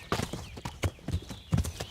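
Horse hooves clip-clopping at a gallop in the video game Kingdom Come: Deliverance, loud, close and rhythmic, irregular thuds recurring through the stretch with no talk over them.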